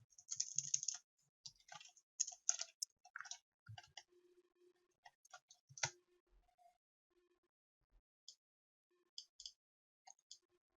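Codes are typed on a computer keyboard in short irregular bursts of quiet, crisp key clicks separated by pauses, close and faint, with no talk.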